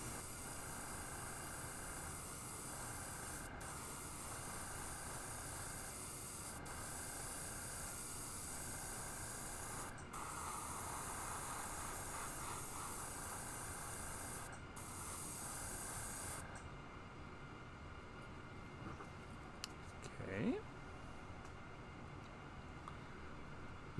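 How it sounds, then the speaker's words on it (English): An airbrush sprays paint onto a fishing lure being painted as a black crappie, giving a steady close hiss that stops briefly a few times and cuts off near the end, followed by light handling sounds. "we'll start at this little eye right here and spray backwards"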